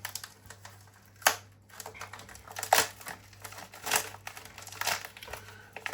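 A J.A.B Leatherworks paper envelope crinkles and rustles as it is handled, with a few sharper crackles among the steady, close rustling.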